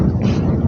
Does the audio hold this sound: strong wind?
yes